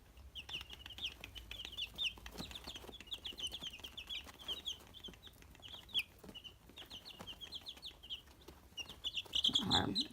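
Eleven-day-old chicks in a baby pool brooder chirp in quick, high overlapping peeps, a busy nearby chorus with scattered scratching and rustling and no talking.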